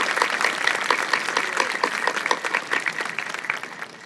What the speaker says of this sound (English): Please join me in giving all of our distinguished guests a round of applause.